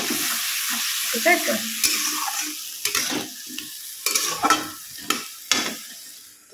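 A spatula scrapes and stirs spice masala frying in a pan, with irregular close strokes over a soft background sizzle and a few brief spoken words.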